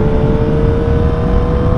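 Motorcycle engine steadily droning while engine braking on a downshift into a corner, loud and close with a constant hum and no talk.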